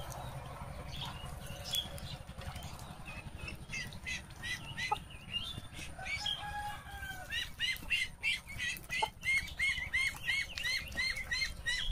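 Ducklings and chickens in a farmyard, a busy mix of clucking and high peeping calls with wing flaps, close by and growing denser toward the end, no talk.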